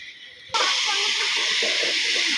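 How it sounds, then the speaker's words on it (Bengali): Spice paste hits hot oil in a pan with a sudden loud sizzle, then keeps frying in a steady, close, crackling hiss while the masala is cooked down until the oil separates. "মশলাটা আমি ভালো করে কষাবো, যতক্ষণ তেল না ছাড়বে ততক্ষণ কষাবো।"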